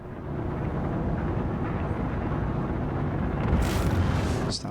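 In Star Citizen, the RSI Mantis spaceship's engine runs at max throttle as a dense, steady low roar and rumble, with a brief hissing rush near the end.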